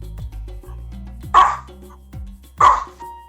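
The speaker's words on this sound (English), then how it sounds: "dog was looking at me and barking" Two loud, sharp dog barks about a second apart, close by, cutting over a low background hum during a tabletop role-playing game session.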